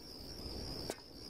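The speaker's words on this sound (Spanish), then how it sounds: "Menudo calor parece que hace en Roma, porque oigo los grillos" Crickets chirp in a warm Roman street in Tomb Raider Chronicles, a steady high, thin trill that carries faintly and continuously through a quiet ambience, broken by one brief soft knock.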